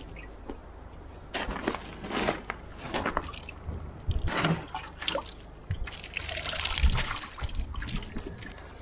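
Water trickles and splashes unevenly out of a rusty loader being flushed, sputtering in irregular bursts and drips close by with no talking.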